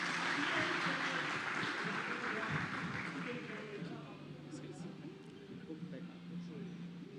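A crowd at a Brazilian church men's meeting claps for Paulo, a dense applause that starts full and gradually thins, with a voice speaking over it.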